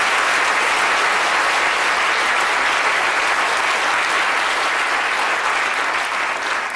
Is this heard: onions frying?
no